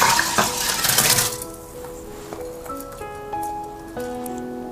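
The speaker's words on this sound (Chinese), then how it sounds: "泡好的糯米，咱们倒入电饭锅或者高压锅" Soaked glutinous rice poured into a rice cooker, a close, loud rushing patter of grains at first, then fading into scattered clinks and ringing metallic tones as the pot settles.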